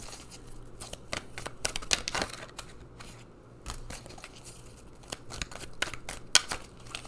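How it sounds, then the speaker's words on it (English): Oracle cards are shuffled and pulled by hand, giving a string of quick, crisp papery snaps and flicks at irregular intervals over a quiet background. "Let's pull some more cards, go a little deeper."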